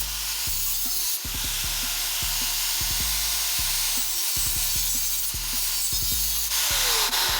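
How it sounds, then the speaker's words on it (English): A hacksaw cuts through a window screen frame in steady back-and-forth strokes, a regular rasping rhythm about two strokes per second, close and loud over a constant background hum, with no speech. "A hacksaw will give you a cleaner cut."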